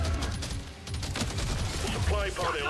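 Rapid bursts of gunfire from the video game Deep Rock Galactic Survivor crackle loudly in quick succession, piercing shots with dense, layered game effects throughout.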